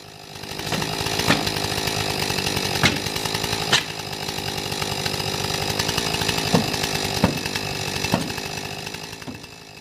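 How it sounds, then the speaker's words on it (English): A chainsaw runs steadily at high revs as firefighters make a plunge cut through a structural wall during a basement rescue, its loud continuous whine broken by a few sharp knocks and load changes. "2 more guys coming up with the chainsaw to begin the plunge cut to cut this time in half"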